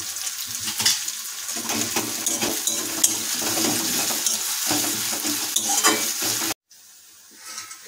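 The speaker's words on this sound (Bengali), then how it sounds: "গরম তেলের উপরে যোগ করতে প্রায় 100 গ্রাম পরিমাণ পেঁয়াজ কুচি।" About 100 grams of chopped onion fries and sizzles in hot oil while a utensil stirs and scrapes the pan, a steady close crackle that cuts off near the end to a quieter hiss.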